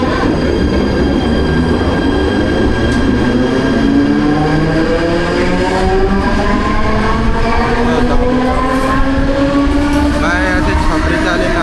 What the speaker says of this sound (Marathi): आता ही ट्रेन आली